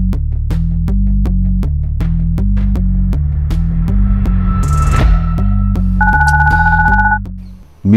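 A phone rings mid-game in short repeated electronic trills over a pulsing, throbbing hum, fairly loud and close.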